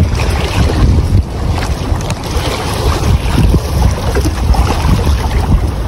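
A strong south wind at sea buffets a fishing boat, making loud, continuous gusty roaring and rumbling, with water and waves sloshing underneath.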